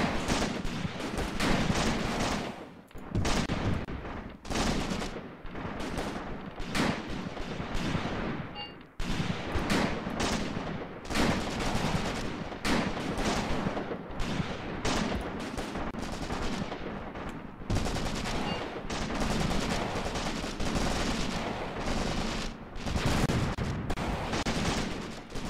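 Dense, sustained gunfire in the WWII tactics game Graviteam Tactics, set at Shilovo in 1942: rapid overlapping rifle and machine-gun bursts rattle almost continuously for the whole stretch, loud and close, with no talking over them.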